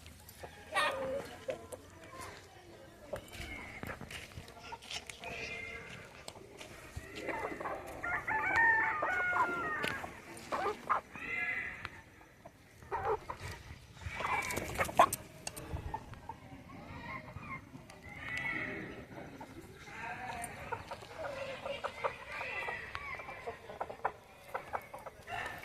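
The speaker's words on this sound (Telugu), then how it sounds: "చూశారు కదా మన మెదక్ జాతి కోళ్ళు" Medak breed chickens on a poultry farm cluck and crow continuously, with several birds calling near and far in a busy, layered flock chorus, and sharp rooster crows and clucks standing out over scratchy background noise.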